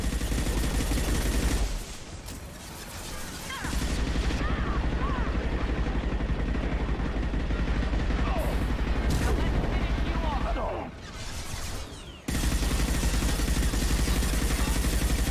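Gunfire crackles in the video game Mass Effect 2, dense bursts of shots over a loud steady background, with two brief quieter lulls and a voice talking at times.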